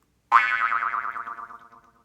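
A single springy jaw harp twang, wobbling up and down in pitch as it's wiggled, then fading out over about two seconds.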